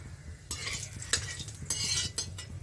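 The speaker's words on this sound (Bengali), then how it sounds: "এবার আমার তেল গরম হয়ে গেছে, এই যে হিং দিচ্ছি।" Asafoetida dropped into hot oil in a kadai, sizzling softly with stirring scrapes and a few utensil clinks, close and quiet, no talk.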